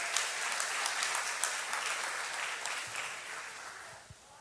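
A church congregation applauds during a Protestant service, a steady wash of many hands clapping that holds fairly even and near throughout, then thins slightly toward the end.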